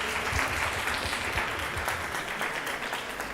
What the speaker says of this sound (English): Let's give him a bigger round of applause